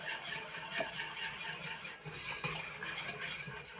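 A gummy mixture stirred continuously in a bowl until smooth, giving a soft, steady scraping and swishing with a few light clinks of the utensil, close but quiet and without talk.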